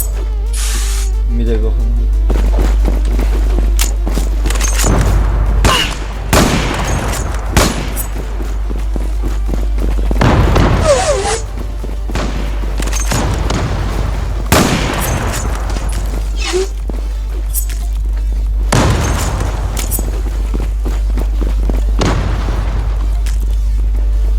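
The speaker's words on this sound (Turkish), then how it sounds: "Bombayı kur ve patlat." In a first-person shooter, a planted bomb goes off with loud booms and bursts of gunfire, spaced out over a constant game hum with its own noisy bursts. No one speaks.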